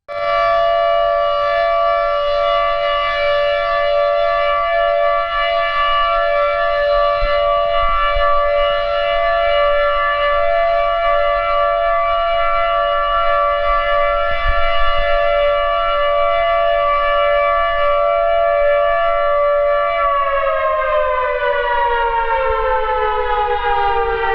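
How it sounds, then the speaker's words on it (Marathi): A loud, steady civil defense siren signalling a moment of silence in Amravati wails continuously with a sustained harmonic tone, dropping in pitch near the end as it winds down. "मौन पाळण्याची सूचना देणारा सायरन वाजविण्यात आला"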